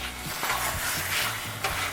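Peanut brittle mixture with baking soda and vanilla stirred in a pot on the stove, a sticky, foaming sizzle with repeated scraping strokes of a spoon against the pan bottom, close and fairly loud, with no talking.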